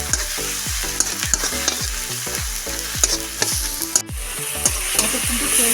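Ground spices and turmeric fried down in oil in a kadai for a paneer dish, with a loud, steady sizzle and regular scraping strokes of a spoon stirring the masala close up, no talk.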